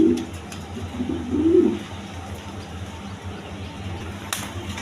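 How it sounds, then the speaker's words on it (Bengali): Racer pigeons on a farm coo softly in short, throaty bursts, a few close low coos near the start, then quieter background ambience. "দেখেন রেশার কবুতর"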